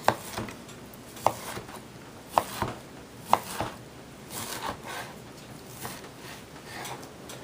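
A knife chops through raw chicken on a meat cutting board, a few sharp, evenly spaced thuds followed by softer scraping and knocks, close and moderately quiet.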